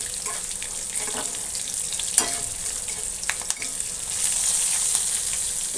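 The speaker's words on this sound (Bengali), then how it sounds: "হালকা একটু ভেজে নেব।" Curry leaves and green chillies fry in hot oil with a lively crackling sizzle, punctuated by a few sharp pops and stirring scrapes, loud and close with no talking.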